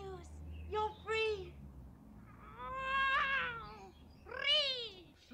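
A cat meows several times in a comedy film scene, drawn-out wavering cries, the last ones louder and more strained, heard close over a low background hum.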